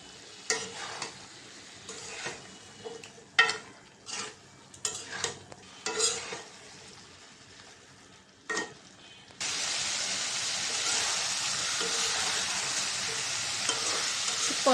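Fish curry masala with tomato in a pan: first scattered scrapes and stirring clatter over quiet frying, then a loud, steady hiss of sizzling that fills the last few seconds.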